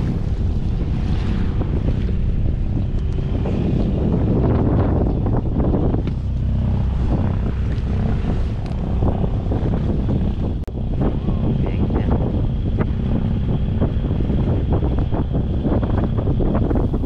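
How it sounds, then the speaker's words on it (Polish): A sailboat under way in steady wind, heading out from Northney Marina, with continuous broadband wind and water rush close to the microphone for the whole stretch, no voices. "Skoczyliśmy na łódkę i popłynęliśmy w stronę Sancji."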